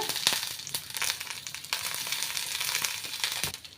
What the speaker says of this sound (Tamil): கடுகு நல்லா பொட்டினோடனே பத்திலும் கருவேப்பிலையும் ஆட் பண்ணிக்கோங்க